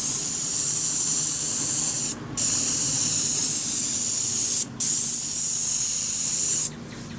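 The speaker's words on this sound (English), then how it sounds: "When you're spraying with a sprayer, I'm gonna go ahead and run a piece of the siding for you." Paint sprayer hissing steadily as it coats a piece of aluminum siding, three long continuous passes with brief pauses between them, close and fairly loud with no talk.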